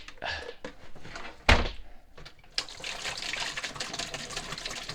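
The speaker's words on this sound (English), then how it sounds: "I'm adding 2 gallons of this acid." Descaling acid pours into a water heater flush bucket, a splashing liquid stream with a sharp knock midway, then continuous gurgling fill.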